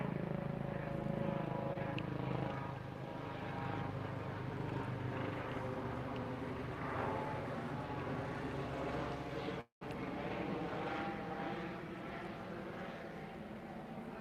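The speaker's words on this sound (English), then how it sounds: "got a helicopter going overhead." A helicopter passing overhead outdoors at a hillside work site, its rotor drone steady and moderately distant, a continuous low hum filling the whole stretch with no voices over it.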